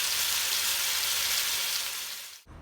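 Mutton pieces frying in a pan for a gobi gosht curry, a loud steady broadband sizzle that holds for over two seconds, then cuts off abruptly near the end.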